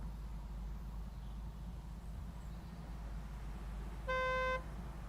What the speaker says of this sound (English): We're going to get honked at.